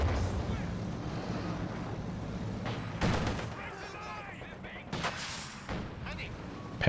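A landmine detonates in a World War II real-time strategy game match, a sharp blast among ongoing gunfire and artillery-like booms, with a caster talking over the battle.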